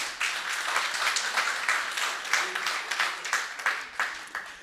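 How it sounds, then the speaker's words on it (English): Students at a university Africa Day celebration get a round of applause for their project, a moderate crowd clapping in uneven bursts that swell and fade over several seconds, fairly close. "Let's give them a round of applause."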